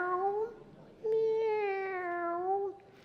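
A human voice imitating a cat's meow during a Nebraska Legislature session, two drawn-out, whiny meow-like tones, the second longer and louder, close and clear with no other talk.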